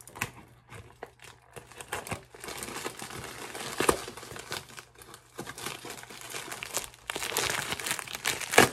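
Crinkling and tearing of a tightly taped package of cookies being opened, with bursts of rustling that build to a loud crackle near the end.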